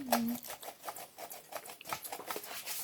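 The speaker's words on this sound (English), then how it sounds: "So go ahead and sift the rest of it." Flour mixed with cinnamon, nutmeg and baking powder is sifted for a Jamaican black fruit cake, making a soft, rapid, rhythmic patter and rasp of the sifter that keeps going without speech.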